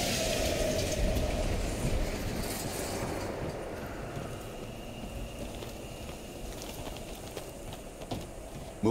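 A train rumbling past in an abandoned East German station in Call of Duty Black Ops Cold War, a loud, steady rolling roar with metallic clatter that slowly eases, with no talking.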